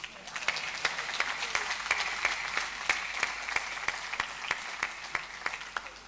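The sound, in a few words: applause at convocation ceremony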